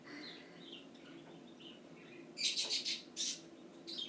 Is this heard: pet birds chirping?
yes